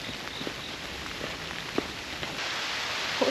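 Heavy rain pours down on a hiking trail in a dense, even hiss of drops, with a few brief louder patters close by.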